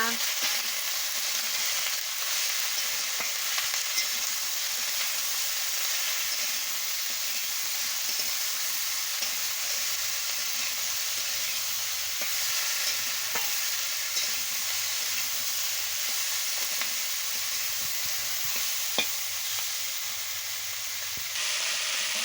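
Cauliflower stems and eggplant sautéing with salt and chili powder for a Bengali chorchori, a continuous close sizzle and hiss with occasional scraping stirs, steady throughout and not talked over.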